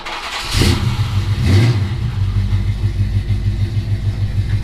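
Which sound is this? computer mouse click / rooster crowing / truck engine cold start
truck engine cold start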